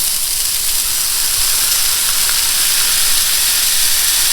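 Smashburger patties sizzle on a hot Blackstone griddle under a bacon press, a steady loud hiss filling the space with no pauses.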